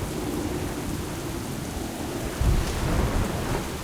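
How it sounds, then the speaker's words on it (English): A thunderstorm with steady heavy rain from World of Warcraft at Exile's Reach, with waves and howling wind battering a ship, keeps up a dense, unbroken roar, and a deeper rumble of thunder swells near the end. "Captain, we can't weather this storm for long"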